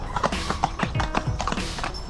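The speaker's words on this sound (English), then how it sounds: "Oh, horses." Horses pass along a road, their hooves making a quick, regular clip-clop that is fairly close and clear for a couple of seconds.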